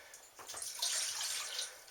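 Water pours steadily into bread flour while mixing a no-knead cinnamon raisin bread dough, a close, continuous splashing stream lasting about two seconds with no talking.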